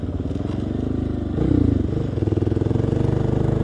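A motorcycle engine drones steadily while riding, a close, low, throbbing rumble with a slight rise in revs midway, continuous with no talking.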